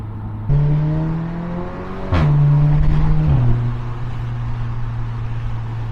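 A 2016 Audi S3 with an AWE Track Edition exhaust accelerates with the windows down, a loud engine drone that steps up in pitch with a brief burst, then settles into a steady cruise.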